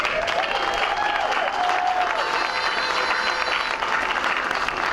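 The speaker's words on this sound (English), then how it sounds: "Give yourself a round of applause." A crowd at a rally on the Oregon State Capitol grounds applauds steadily, with clapping and a few whoops and cheers carrying over the dense, sustained noise.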